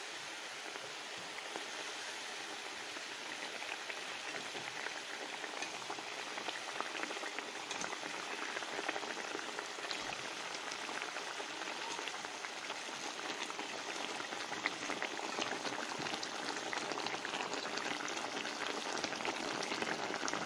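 Tomato sauce for fish simmers under a lid in a pan, a soft, even bubbling hiss that runs unbroken and faint throughout, with no talk.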